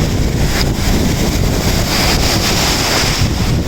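Strong waves break on a beach in Bujumbura in a loud, continuous surge of surf mixed with heavy wind rumble on the microphone, close and unbroken.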